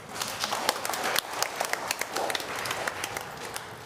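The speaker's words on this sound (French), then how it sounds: "Applaudissez-le encore." A church congregation applauds at a Sunday Mass, many hands clapping in a dense, fairly quiet patter that continues steadily without talk.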